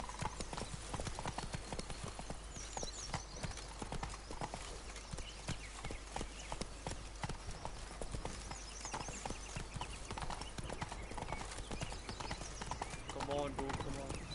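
A horse gallops in the video game The Witcher III, with rapid, continuous hoofbeats clattering throughout, under someone talking and a brief whinny near the end.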